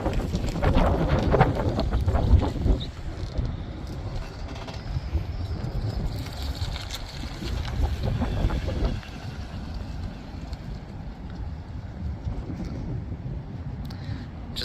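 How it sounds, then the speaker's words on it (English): Gusty wind buffets the microphone at a Tesla Cybertruck charging stop on the way to the Bonneville Salt Flats, a steady low rumble that swells harder in the first few seconds and again near nine seconds, with faint birds. "A little windy today."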